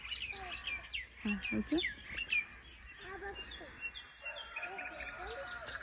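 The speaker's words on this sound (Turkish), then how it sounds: "şu kuşların sesini duysam" Birds chirp and tweet outdoors in quick scattered calls, some near and some farther off, mixed with someone talking now and then.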